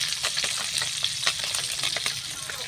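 Food sizzles and crackles in hot oil in a pan, with a dense, continuous spatter and occasional sharper pops, close and steady, with no voices.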